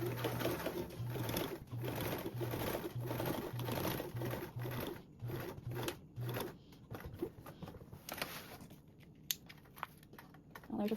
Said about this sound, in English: put my needle down, sew a little bit, back tack to reinforce that stitch, and then sew continuing over my previous stitches